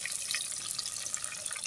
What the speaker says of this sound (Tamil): நம்ம அப்படி பண்ணாமல் புளி தண்ணியை மட்டும் தனியாக ஊற்றுறோம்.